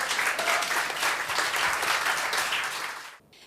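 An audience at a science poetry evening of haiku and limericks applauds, steady dense clapping from many hands that trails off abruptly at the end.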